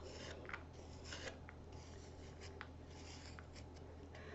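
Straight edge of a scraper rasping across a clay pot to smooth it, repeated short scratching strokes close by in a quiet room.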